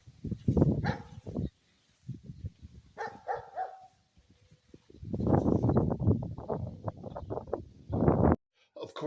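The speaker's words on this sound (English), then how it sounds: "the new chihuahuas had to show me how mad they were that I did not bring them outside with me" Small chihuahuas barking indoors in short, sharp bursts with some whimpering yips between quieter gaps, close by and fairly loud.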